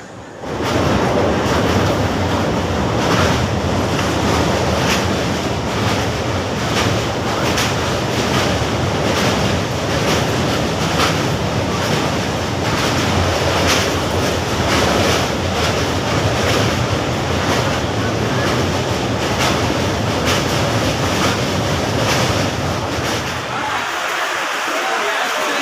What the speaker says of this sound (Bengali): ট্রেনটি এই মুহূর্তে এসে পৌঁছেছে তার যাত্রাপথে অন্তিম স্টেশন শিয়ালদায়।